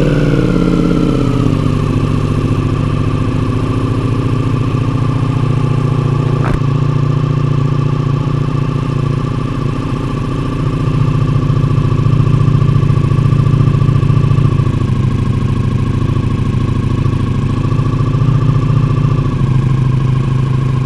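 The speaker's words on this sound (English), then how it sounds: "let me give you a nice cold start" A Ducati Pikes Peak motorcycle fitted with an Akrapovic full titanium exhaust starts cold and settles into a loud, deep, steady idle close by, with no talk over it.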